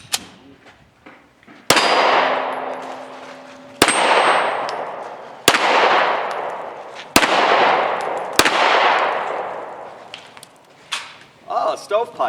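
A Jericho 941 pistol fires five loud, sharp shots spaced about two seconds apart, each leaving a long ringing decay, with faint voices before the first shot and after the last.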